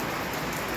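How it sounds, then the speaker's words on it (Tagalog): Heavy rain pours down steadily near a home laundry area, a dense continuous hiss with no pauses. "Ang kalagayan ng panahon, malakas ang ulan"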